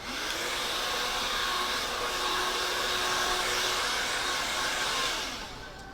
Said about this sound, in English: if I can get my hair dryer back on